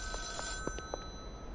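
A telephone rings in the video game Schedule 1, giving a few short electronic trills that repeat close by over faint background hum.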